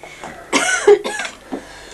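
A woman coughs a few times at close range: two strong, harsh coughs in the middle, with softer throat sounds before and after in a quiet room.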